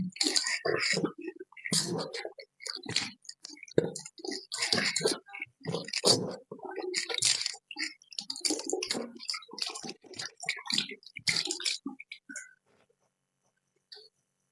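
Water is splashed and rinsed through the mouth and nose during wudu ablution, giving repeated short wet bursts and slurps, close and fairly quiet, before falling silent at the end.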